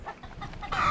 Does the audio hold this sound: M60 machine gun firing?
no